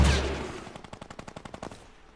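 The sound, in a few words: grenade launcher firing in the video game Fortnite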